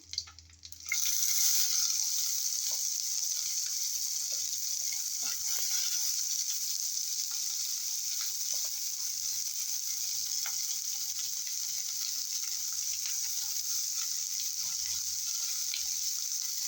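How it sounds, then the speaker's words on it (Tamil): Steady, loud sizzling of chopped onion frying in hot oil after a brief clatter at the start, continuing evenly with faint stirring sounds. "நல்லா வதக்கி விடுங்க."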